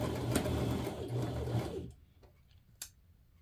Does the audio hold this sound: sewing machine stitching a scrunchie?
yes